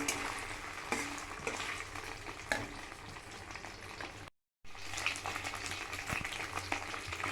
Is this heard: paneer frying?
yes